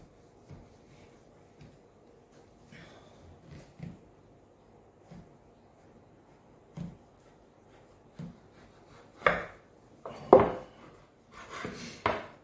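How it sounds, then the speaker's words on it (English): A sharp knife works through a slab of frozen home-smoked bacon: faint, scattered scraping and knocking strokes on a board, growing into a few louder, sharper cuts near the end, in a quiet room. "carefully cut it. Knife is sharp. It's just bacon is frozen."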